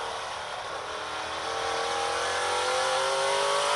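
An ARCA Menards Series race car engine at Elko Speedway revs steadily higher under throttle, a loud rising whine that builds over a few seconds with no talking.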